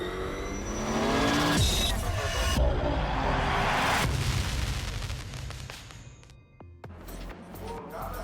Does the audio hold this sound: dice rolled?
no